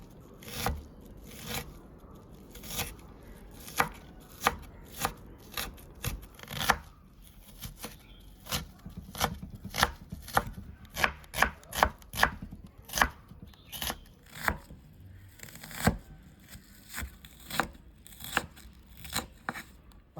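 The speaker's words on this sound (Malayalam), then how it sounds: "സവാള നമുക്ക് അരിഞ്ഞെടുക്കാം കേട്ടോ." A knife chops about 300 grams of onions finely on a board, giving sharp, evenly spaced taps close by that come in runs with short pauses, with no talk over them.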